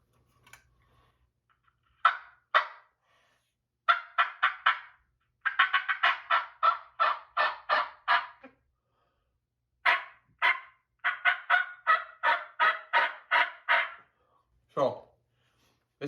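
Ghost Cut turkey call producing series of raspy yelps in quick rhythmic bursts, close and fairly loud, with pauses between runs and a final lower cluck-like note.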